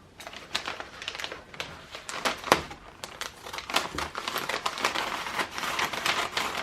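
Crinkly rustling and crackling of packaging material being handled and torn open, close up, with irregular bursts of paper noise and no talking.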